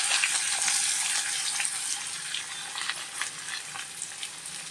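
Onion pieces and fenugreek seeds fry in hot oil for an egg masala curry, giving a steady, fairly loud sizzling hiss throughout, with slight crackle variations and no talking.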